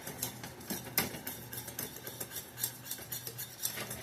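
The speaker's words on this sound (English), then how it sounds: "So I've got some butter and flour in a pan here. We'll just get that going a little bit." Butter and flour stirred in a pan for a quick gravy beside a one-pot chicken and vegetable dinner, with steady scraping and clinking of a utensil against the pan over a low cooking hiss.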